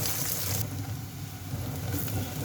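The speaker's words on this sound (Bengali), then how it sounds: "মাছটা ভাজা হয়ে গেল" A soft, steady sizzle of fish frying in oil, continuous and fairly quiet, with a faint hiss that dips briefly in the middle.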